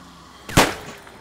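A single sharp gunshot in the survival video game 7 Days to Die, one loud close crack that rises abruptly and trails off in a short decay, with no talk over it.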